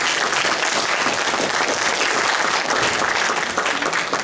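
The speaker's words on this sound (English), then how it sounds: "give a round of applause for the leaders" Audience at a university political debate event applauding the debate leaders, loud, dense clapping filling the room evenly for about four seconds.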